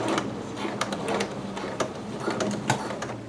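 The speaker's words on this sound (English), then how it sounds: "Set your machine stitch to a longer stitch. I'm going to set mine at 5, and then just baste from the seam" A domestic sewing machine basting a seam to a vent on a long stitch setting gives a quiet, steady whir broken by faint rhythmic clicks of the needle, with no voices.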